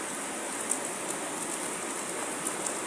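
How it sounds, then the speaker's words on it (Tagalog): Heavy rain falls steadily as a dense, even hiss of drops with occasional brighter splashes, constant and close throughout. "Kasi ang lakas ng ulan"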